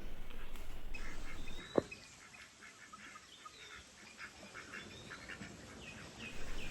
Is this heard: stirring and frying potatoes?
no